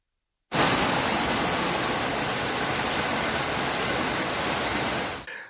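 Rushing floodwater from a river that has burst its banks between Asolo and San Zenone degli Ezzelini, a steady, dense roar of water close by, unbroken and loud from start to finish with no voices.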